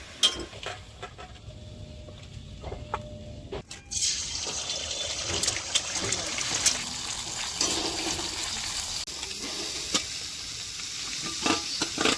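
Meat with capsicum and vegetables stir-frying in a home kitchen pan: steady sizzling with scraping and stirring strokes, quieter at first, then louder and denser after a few seconds, with no voices.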